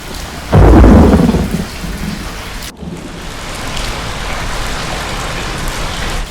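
Steady heavy rain pours down with a loud thunder rumble near the start, then a sharp crack before the downpour continues, rain beating on college windows.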